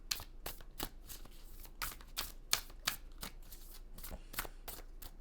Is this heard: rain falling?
no